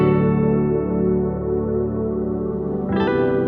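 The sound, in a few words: reverb effect applied to vocal samples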